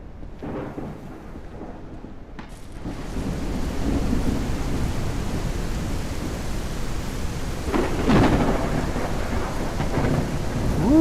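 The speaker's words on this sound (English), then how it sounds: "Woo, that thunder is loud." A thunderstorm in the farming video game Ranch Simulator builds from quiet into loud, rolling thunder over a steady wash of heavy rain, with a sharper crack near the end.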